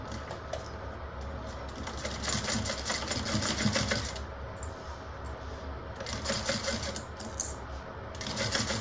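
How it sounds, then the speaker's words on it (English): A sewing machine runs in steady bursts while stitching a zipper onto a bag with a quarter-inch seam, its rapid mechanical whir rising and pausing across the clip with no talk. "we're going to sew that on at 1/4 inch"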